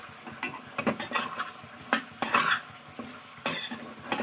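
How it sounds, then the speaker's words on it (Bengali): A spoon scrapes and stirs soyabean curry with garam masala in a pan over a high gas flame, with irregular stirring strokes rising over a continuous sizzle, close up. "এবার ভালো করে এটা নাড়াচাড়া করতে হবে।"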